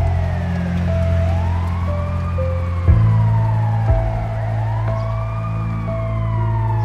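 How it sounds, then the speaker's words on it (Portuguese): An ambulance siren wails loudly and steadily, its rising and falling tone sweeping repeatedly over a low engine rumble, close by throughout. "a ambulância já tá chegando"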